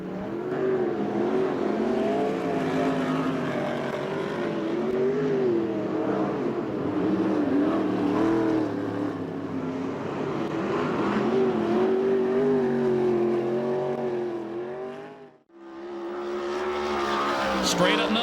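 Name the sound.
USAC/CRA sprint cars racing at Perris Auto Speedway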